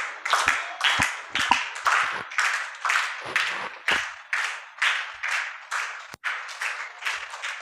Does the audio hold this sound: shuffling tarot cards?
no